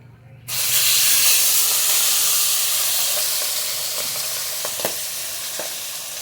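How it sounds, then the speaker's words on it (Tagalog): Loud, steady sizzling of boneless milkfish frying in hot oil, with occasional small pops and crackles over the constant hiss. "nagpiprito po tayo ng bangus"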